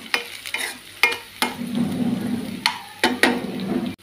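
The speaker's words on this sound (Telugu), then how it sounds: "పచ్చిమిరపకాయ మసాలా వేసుకున్నాం. ఇలా బ్రౌన్ కలర్ వచ్చే వరకు వేగాలి." Green chili masala fries in a pan for a prawn coconut curry, sizzling steadily while a utensil scrapes and stirs in sharp repeated strokes, close and fairly quiet.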